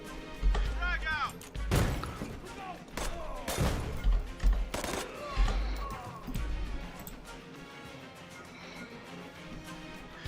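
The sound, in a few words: frag grenade explosion in a video game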